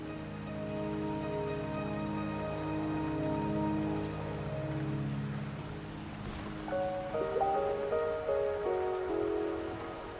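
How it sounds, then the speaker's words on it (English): Rainfall in the video game Wuthering Waves, a steady even patter under sustained musical score tones that shift midway. "Don't worry, the rain won't last much longer."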